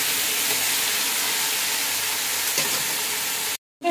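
Chopped carrots sizzling in a pan with tomatoes give a steady, soft hiss of frying that holds evenly before cutting off abruptly near the end.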